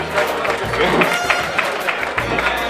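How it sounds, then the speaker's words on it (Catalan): A crowd applauds with steady, dense clapping that holds at an even level throughout the short clip. "un fort aplaudiment pel Joan"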